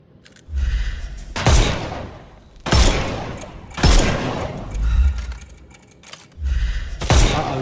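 Gunfire in the Sherlock Holmes Chapter One video game: about five loud, close shots boom at roughly even intervals, each trailing off in a rumbling decay.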